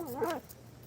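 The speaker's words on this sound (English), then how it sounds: "Yeah, bark for everybody." A beagle lets out one short, wavering bark-like yowl, close and fairly quiet, followed by near silence.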